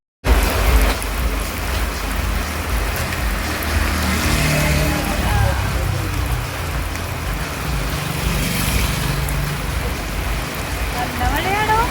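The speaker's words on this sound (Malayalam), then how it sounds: "നല്ല മഴയാണ്." Heavy rain falls steadily on a roadside outside a bakery, a loud continuous patter and roar throughout, with passing vehicles faintly audible and muffled voices underneath.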